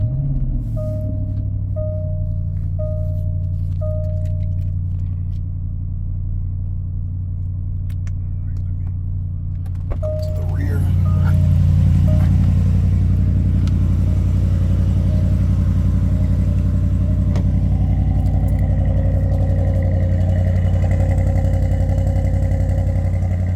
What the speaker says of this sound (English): let's see how this thing sounds for the first cold start